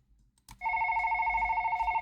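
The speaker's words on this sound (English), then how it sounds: "The phone suddenly interrupts my thoughts, and I'm ringing 2 times before I answer it." A telephone rings in the video game Broken Colors, a steady electronic trill that starts after a short click and keeps going, loud and alone.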